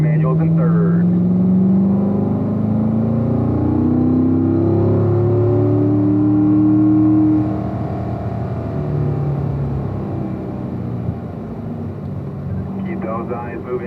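Car accelerating and cornering through turns on a race track, engine revving with rising harmonic sweeps that then settle into a lower drone, heard from inside, with people talking over it.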